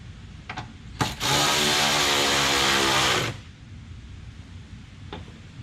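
A power tool drives the kit's bolt into the side apron panel of a Dodge Durango SRT 6.4L. It makes one close, loud, steady whir lasting about two seconds, with faint clicks just before and after.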